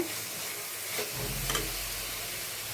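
Masala with smashed tomatoes frying in a pan for methi gojju, a steady close sizzle with soft stirring scrapes and a deeper bubbling rumble joining partway through, no voices.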